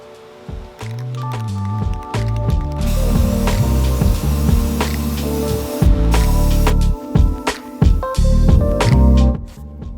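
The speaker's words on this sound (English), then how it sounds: "let's go spray these off" Loud, close bursts of spray-paint hiss on scroll-saw-cut wood pieces, broken by clicks, clatter and handling noises between passes.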